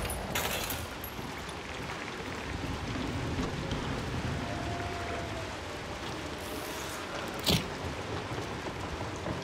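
Steady rain falls in the video game Hunt: Showdown, a dense, even patter across the whole stretch with one brief sharper knock near the end.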